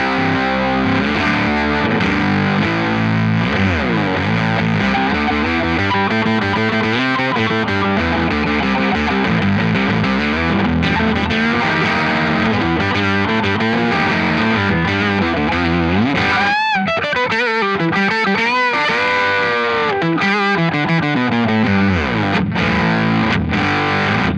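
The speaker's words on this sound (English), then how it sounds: "now I'm going to punch the octave back into the fuzz by pushing the button" An MXR Slash Octave Fuzz guitar pedal with the octave engaged gives a loud, thick, heavily distorted electric guitar tone with a buzzy octave-up edge, played in continuous sustained notes and runs, with a few glitchy breaks near the end.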